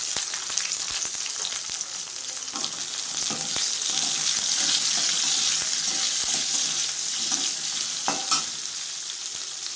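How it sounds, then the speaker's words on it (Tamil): Small onions (shallots) fry and are stirred in sesame oil with garlic and asafoetida for a perandai thuvayal. A steady, loud sizzle plays throughout, broken by light spatula clicks and scrapes. "இப்போது நம்ம சின்ன வெங்காயம் ஆட் பண்ணிக்கலாம்."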